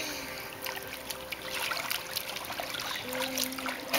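A child swims in water, producing a steady, close wash of splashing and trickling with light broadband sloshes throughout.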